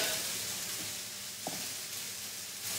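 Small onions hiss and sizzle in a hot pan, a faint, steady frying crackle with a soft tap partway through.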